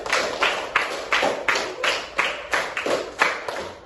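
A classroom of students clapping together in a steady rhythm, about ten sharp, evenly spaced group claps over a few seconds, loud and close, with no talking.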